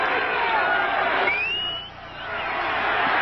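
Sold-out Soldier Field football crowd at an Eagles–Bears game, a dense, steady roar of murmuring voices with faint whistles, dipping briefly before swelling back, distant and continuous throughout.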